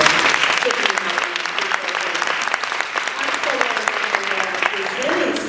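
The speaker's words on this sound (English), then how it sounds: "Round of applause for" Sustained audience applause at an Urban League of Greater Atlanta event, a steady wash of many hands clapping at moderate level, with faint voices mixed underneath.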